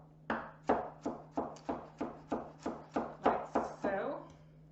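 A knife chops raw onion into small pieces on a board, about ten sharp, evenly spaced thuds close up, with a low steady hum underneath.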